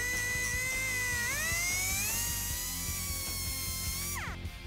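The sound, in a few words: power tool trimming fiberglass on 1971 Cuda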